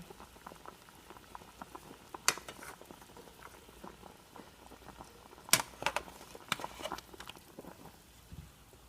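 A pot of water boils steadily with dense bubbling while a beef tongue cooks, punctuated by a few sharper clinks and splashes.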